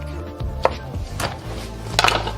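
A knife works through a chicken wing at the joint and cartilage on a board, giving a few dull chops and cracks with light scraping in between.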